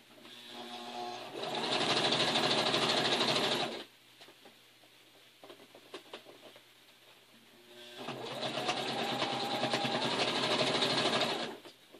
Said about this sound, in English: we're going to fold this over this way and sew it down